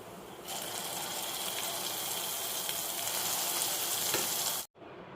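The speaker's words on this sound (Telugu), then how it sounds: "ఇదిగోండి పోపు వేగిపోయింది ఇప్పుడు చట్నీ వేసుకుందాం" Mustard tempering with asafoetida, curry leaves and turmeric sizzles loudly and steadily in a hot pan as ash gourd chutney goes in, a dense crackling hiss that stops abruptly near the end.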